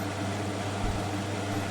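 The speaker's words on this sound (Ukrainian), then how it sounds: "Це просто у мене працює витяжка." A kitchen range hood fan runs with a steady whooshing hum and low drone, constant throughout with no other sounds.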